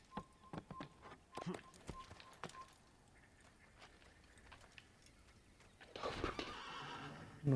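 In the video game Assassin's Creed, a horse whinnies and neighs with clip-clopping hooves, fairly soft and quiet, as short bursts of movement come and go and end in a busier flurry of hooves and action.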